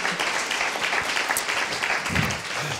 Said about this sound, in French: Les applaudissements sont les bienvenus.